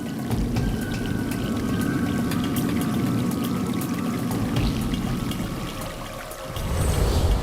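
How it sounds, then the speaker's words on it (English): Water slowly pours in through the gate of a floating home's dock as an air seal deflates, a steady rushing wash that holds evenly throughout, then dips briefly and swells again near the end. "water will slowly pour in."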